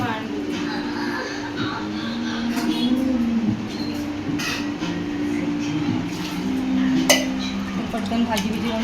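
Steel dishes and utensils clink and clatter at a kitchen sink during washing, with scattered sharp knocks over running background noise while people talk nearby.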